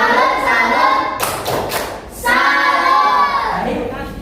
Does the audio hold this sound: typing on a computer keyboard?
no